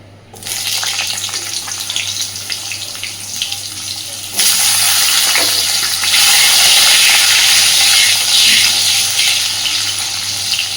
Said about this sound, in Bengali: এই একই তেলে এইবার আমি অল্প একটু পটল গোল গোল করে ছোটো ছোটো করে কেটে রেখেছি পটলটাও এবার ভেজে নেব